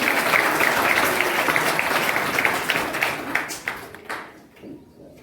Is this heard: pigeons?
no